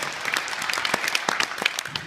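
A small group of people claps in a loose, uneven patter of distinct hand claps, fairly close and moderately loud, with no talking.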